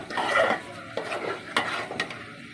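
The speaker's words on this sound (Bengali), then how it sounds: "এটা এবার ভালো মতো কষাবো ঢেকে ঢেকে।" Mutton khichuri with garlic paste and extra chili spices is stirred and sautéed in a pot, with close scraping and stirring strokes over a soft, steady sizzle.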